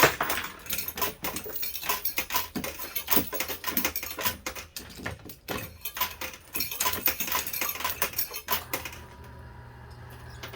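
Quarters clatter and patter in irregular bursts inside an arcade coin pusher machine, dropping and sliding against each other up close, ending in a low steady hum.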